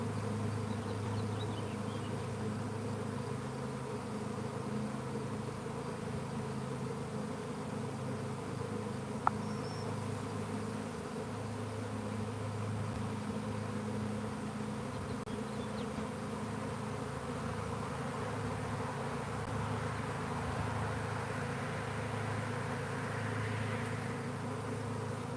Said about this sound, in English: Man, that buzz, though, is like something else.